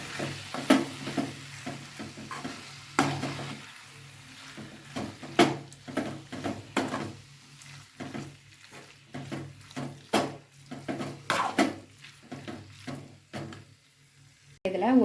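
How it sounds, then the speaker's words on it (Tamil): Cleaned prawns are stirred and frying in a pan for prawn thokku, a spicy Tamil dish. A spoon makes repeated irregular scrapes and clacks over a soft, continuous sizzle, close and moderately loud. "இப்போ இதில் க்ளீன் பண்ணி வச்ச எறா சேர்த்துக்கலாம்."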